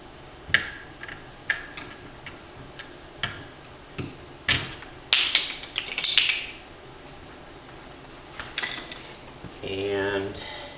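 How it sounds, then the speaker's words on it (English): Two screwdrivers pry the top cap off a Woodford Model 22 spigot vacuum breaker, giving a series of sharp metallic clicks and scrapes at irregular intervals, with a louder clattering cluster midway and a brief buzzing tone at the end. "take a couple screwdrivers and pry off this top cap"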